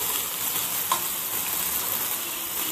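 Spicy chicken pieces sizzling on a grill, a steady soft crackling hiss with a faint clink partway through, no talking.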